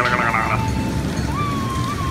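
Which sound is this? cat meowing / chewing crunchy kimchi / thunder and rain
thunder and rain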